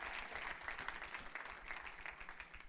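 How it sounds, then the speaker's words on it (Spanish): Church congregation applauding during a Spanish-language sermon, a steady dense clatter of many hands filling the space at moderate distance without pause. "Den un fuerte aplauso al Rey de la Gloria conmigo"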